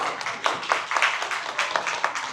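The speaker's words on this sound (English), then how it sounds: "Yeah, you can clap it up." An audience claps together at a teachers' event, a steady burst of applause with scattered sharp individual claps, fairly close and bright, lasting a couple of seconds without talk.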